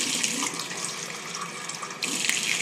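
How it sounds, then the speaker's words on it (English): Tap water pours steadily into a small plastic cup, a continuous close splashing hiss with a brief surge near the end, no voices. "Put a little water in it."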